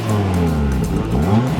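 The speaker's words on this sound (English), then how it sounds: "Give it a little rev." A tuned Audi RS3 revs up while stationary, giving a loud, close engine note that climbs, dips briefly and then rises again over under two seconds.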